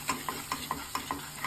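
Spoon stirring cream into a frying egg curry gravy in a pan, six quick evenly spaced scraping strokes over a soft steady sizzle, close and clear with no talking.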